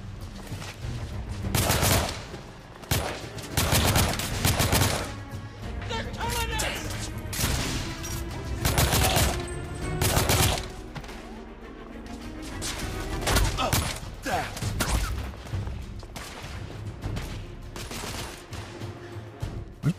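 Heavy gunfire in The Order 1886 video game: dense bursts of rapid shots and booms keep repeating over twenty seconds, loud and close, with brief lulls between volleys and a voice talking intermittently.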